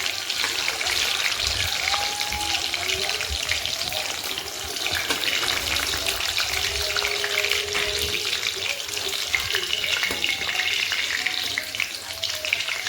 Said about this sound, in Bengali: এয়া মই আলুখিনি ফ্ৰাই কৰি ল'লোঁ